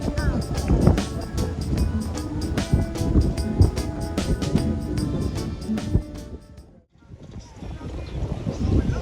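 Strong wind buffets the microphone on a lakeside beach outdoors, a loud continuous roaring rumble with gusty surges that drops away briefly near the end, while music and voices carry faintly underneath.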